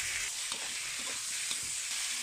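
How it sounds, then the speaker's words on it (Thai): Sliced ginger strips stir-frying in hot oil in a wok for a pork dish, giving a steady, moderately quiet crackling sizzle with faint scraping stirs throughout. "ก็จะผัดให้ขิงนะมีความนุ่มนะ"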